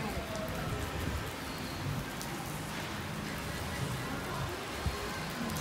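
Heavy rain pours down in cold winter weather in Punjab, a steady, dense hiss of drops striking surfaces that continues without a break throughout.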